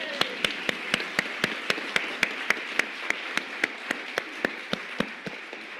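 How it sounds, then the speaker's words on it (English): A conference audience claps in steady, evenly spaced rhythm, each clap sharp and distinct over a soft crowd hiss, continuing at a moderate level for several seconds. "can I have one round of applause?"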